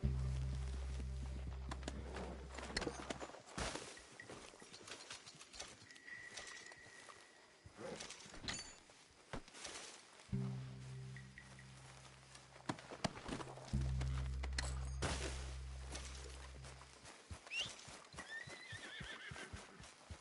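Horse hooves clip-clopping at a walk in the Red Dead Redemption 2 video game, a steady string of soft hoof falls with occasional neighs, set against low ambient rumble and outdoor game atmosphere, no talking.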